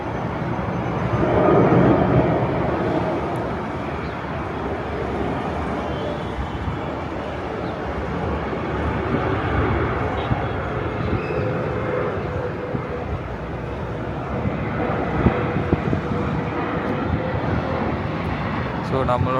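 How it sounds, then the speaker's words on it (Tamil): A fixed-wing airplane passes overhead in Kuwait with a broad, droning roar that swells early and then holds steady, heard under someone talking. "இந்த சான்ஸுக்கு ஒரு ஃப்ளைட் ஒன்று வருது"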